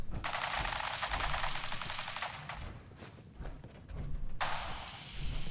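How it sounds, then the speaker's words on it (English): Automatic gunfire in Fallout 4, sustained rattling bursts of machine-gun fire with brief pauses, fairly distant and steady over rumbling background. "Stop or we'll shoot. Men, open fire."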